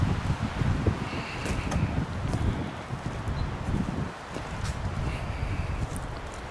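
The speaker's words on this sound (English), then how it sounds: "It's pretty windy in here." Wind gusts through the woods with a steady broadband rush and rustling leaves, some buffeting on the microphone, and faint crunching steps underneath; no one talks.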